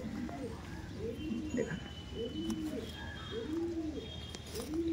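A pigeon held in the hand coos repeatedly in a steady rhythm of low rolling calls, close and clear, with faint background chirps and room noise.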